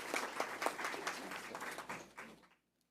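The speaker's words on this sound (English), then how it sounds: "Let's give her another round of applause." Audience applause at a school board meeting, a burst of clapping that sounds moderately near, thins out, and stops abruptly into silence.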